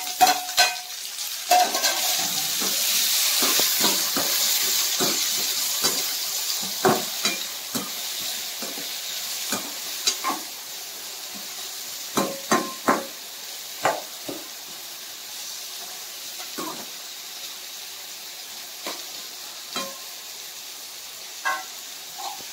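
Tomato goes into reddened onions frying in a pan for a prawn masala, bringing a steady close sizzle with frequent spatula scrapes and knocks on the pan, sharper at first and then easing off.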